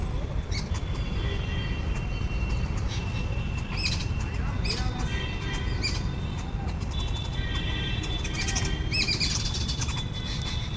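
Birds call near a snake on a university campus in the evening, giving repeated sharp squawks and chirps over a constant noisy outdoor background.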